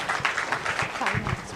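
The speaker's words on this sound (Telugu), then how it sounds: "సో వారిని గట్టిగా చప్పట్లతో ఆహ్వానించుకుందాం" An audience at a talk claps to welcome the next speaker, a brisk burst of hand claps close by, with voices mixed in among the clapping.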